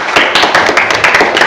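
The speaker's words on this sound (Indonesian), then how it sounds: "Tepuk tangan untuk Zaki." Students in a classroom clap briefly, with dense, rapid applause from many hands close by.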